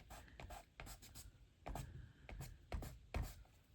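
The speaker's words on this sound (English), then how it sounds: "So I'm going to just erase some of my pencil marks here." A pencil eraser rubs across watercolour paper in short, uneven bursts of scratchy scrubbing, close and fairly quiet, with brief pauses between strokes.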